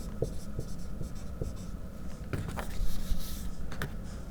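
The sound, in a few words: writing equations by hand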